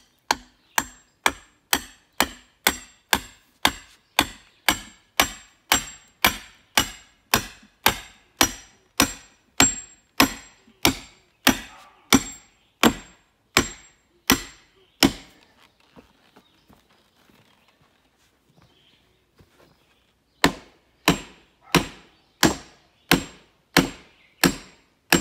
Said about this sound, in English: those last few pounds were us going through that last bit of wood that we weren't able to drill through.